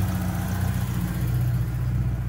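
A car engine idles with a steady low rumble that gradually climbs in speed after its temperature sensor is unplugged. Close and moderately loud, with no talking.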